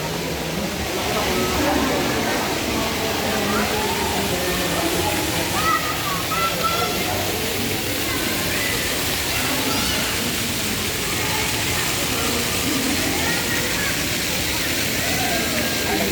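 A public fountain runs with a steady, continuous rush and splash of falling water at moderate distance, while people talk over it throughout.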